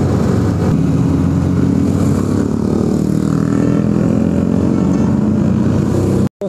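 A motorbike cruises along a road, its engine droning loudly and steadily with a constant rumble and wind noise, no voices, ending in a sudden brief cutout.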